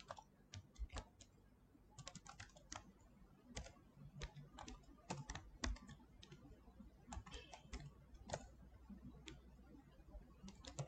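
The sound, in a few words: typing code on a computer keyboard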